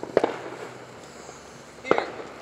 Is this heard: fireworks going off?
yes